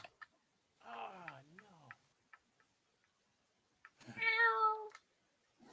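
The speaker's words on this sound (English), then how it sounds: "We let the cat in here." A cat meows indoors, first a drawn-out wavering meow and then a brighter, louder cry a few seconds later, with faint ticking clicks in the quiet between them.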